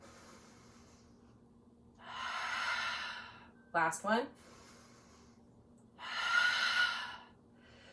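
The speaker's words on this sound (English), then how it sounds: "I went from breathing through the nose solely to breathing in through the nose and exhaling through the mouth." During a detox yoga flow, a person draws air in through the nose and pushes it out through the mouth, two long, close, airy breaths with a brief spoken phrase between them.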